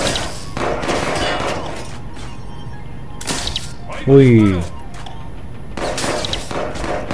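Gunfire from the Watch Dogs 2 video game on PS4 comes in several short bursts of shots spaced across the stretch, with a man's brief exclamation in between.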